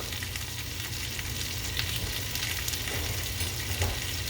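A zucchini squash breakfast skillet frying and being stirred, giving a constant close sizzle with occasional soft scrapes and shuffles as the pieces are moved around in the pan.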